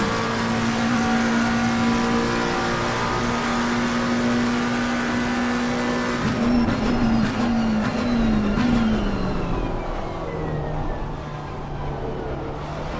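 A GT3 race car drives across the line at Monza in Assetto Corsa Competizione during a warm-up lap. A steady, droning engine note holds and then sweeps downward in pitch as the car passes by.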